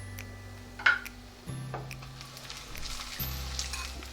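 Garlic ginger paste hits browning onions in a hot pan, giving a steady close sizzle with a few soft stirring scrapes and clicks.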